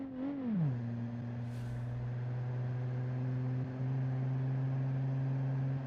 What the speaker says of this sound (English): The car sounds different here, to be honest